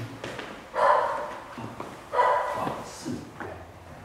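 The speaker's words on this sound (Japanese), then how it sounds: "犬飼ってる。" A dog kept at a working site in Taiwan barks twice at moderate distance, with gaps of shuffling and movement noise between the barks.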